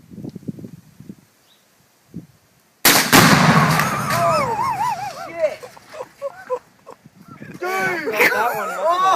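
A rifle shot sets off a binary exploding target placed at a washing machine, a sudden loud blast followed by a long rumbling decay, with people talking quietly before and exclaiming loudly after.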